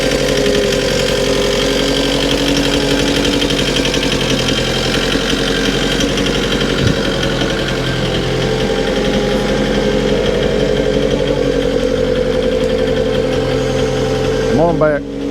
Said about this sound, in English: getting the loader backed in here